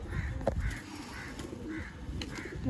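Giribaz pigeons coo in a loft in a series of soft, repeated, rhythmic coos at close range. Faint shuffling and background noise sit under them, with no talking.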